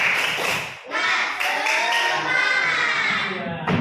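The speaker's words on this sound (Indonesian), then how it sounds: "Tepuk semangat." A classroom of students claps a rhythmic spirit clap in quick, sharp bursts, with voices chanting and shouting along over the claps.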